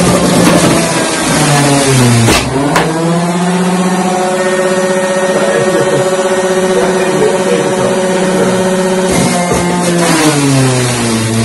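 A loud, close engine revs, drops in pitch and settles into a steady, throaty hum, then revs up again near the end, running continuously with no talking.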